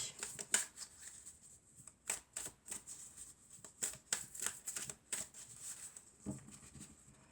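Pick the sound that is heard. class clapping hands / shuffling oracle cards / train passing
shuffling oracle cards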